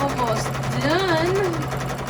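Sewing machine running steadily through free motion quilting on a mini stacks quilt, a continuous close motor hum with rising and falling stitching tones as it traces loops, with talking over it.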